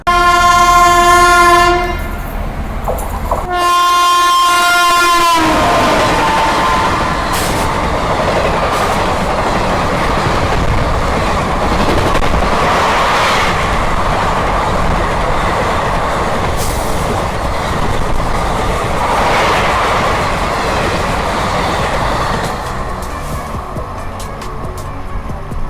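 A train passes through Vatva railway station, opening with a loud horn blast, then a long, close, roaring rumble of wagons rolling by with faint clatter that fades slightly near the end.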